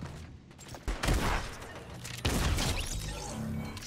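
A tactical shotgun in a video game fires heavy booming blasts, with a sharp report near the one-second mark and another around two and a quarter seconds, amid dense game-combat noise.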